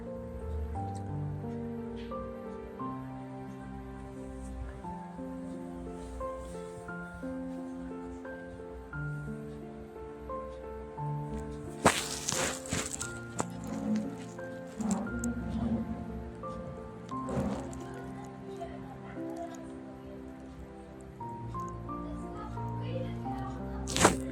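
Grated carrots are sautéed and stirred in a pan over full flame, giving a soft, steady sizzle with intermittent scraping and clattering from stirring, and a few sharper knocks near the end.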